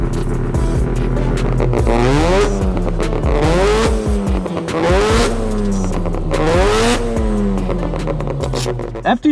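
Mazda RX-7 FD rotary car revving loudly and close by, its piercing engine note climbing and falling through repeated sweeping rev cycles with sharp blips, dominating the scene alone.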